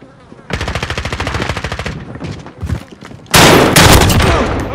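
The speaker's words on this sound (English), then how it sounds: "I'm taking fire!" Rapid machine-gun bursts crackle loudly in a Call of Duty Modern Warfare team deathmatch, a steady stuttering volley followed by a few scattered shots and then a heavy, dense roar of close gunfire.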